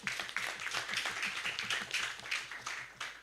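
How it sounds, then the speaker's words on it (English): Audience at an HR event claps steadily for a few seconds, a dense patter of many hands in a room, fairly close and even throughout. "A round of applause for Andrew, please."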